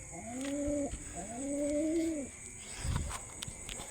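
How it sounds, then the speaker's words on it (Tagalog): Pigeons cooing close by in a loft, two rising-and-falling coos in a row followed by a soft thump and quiet rustling. "Dalawa yung bago natin kalapati dito."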